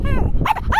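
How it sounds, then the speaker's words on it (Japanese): A dog outdoors in strong wind gives a couple of short, high whining yelps over a steady gusty rumble, close and fairly loud, with people talking nearby. "犬がいるよ。"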